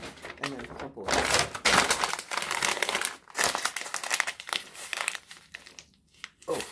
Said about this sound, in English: And then crumple it.